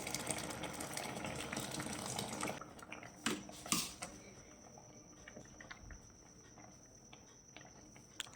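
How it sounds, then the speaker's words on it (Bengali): Hot water pours into a pot of cooking vegetable khichdi, a soft gushing splash for a couple of seconds, then quieter bubbling and a few faint clinks in the background. "পানি কমে গিয়েছে আমি এখানে গরম পানি দিয়ে দেবো"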